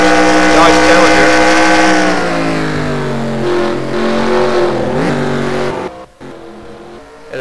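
Dodge Challenger race car engine in a NASCAR-style racing video game at Watkins Glen, a loud sustained roar holding high revs and dipping slightly, then cutting out abruptly near the end before returning.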